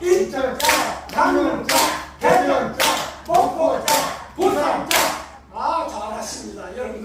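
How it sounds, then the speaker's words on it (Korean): A group at a day care centre claps together in a rhythmic exercise, sharp bursts of clapping in a regular pattern separated by short pauses, with voices speaking or calling along between and over the claps. "손 올리시고 박수 준비"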